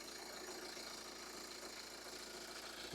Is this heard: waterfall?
no